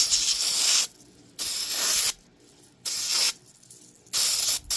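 Aerosol brake cleaner blasting out a cleaned bearing: four loud, hissing spray bursts, each about a second long, separated by short quiet gaps.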